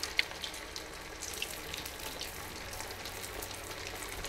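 Sabudana vada frying two at a time in oil over a very low gas flame, giving a steady, faint hiss with a few tiny pops and no talking.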